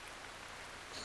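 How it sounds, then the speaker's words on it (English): Heavy torrential rain pours steadily over the Amazon rainforest, a dense, even hiss of falling water filling the whole moment with no voices. "Clouds gather, and torrential rain, sometimes 100 inches a year,"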